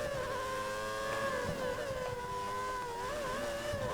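An F1 car engine in the F1 2013 racing game, run at full throttle, gives a steady high-pitched scream that holds loud and constant through the whole stretch, with slight pitch dips as the gears shift.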